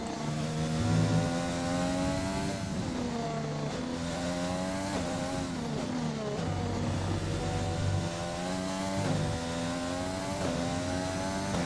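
A Formula 1 car engine in the F1 2020 racing game at the US Grand Prix screams steadily at high revs, pitch rising and dropping through gear changes, loud and continuous with no voice over it.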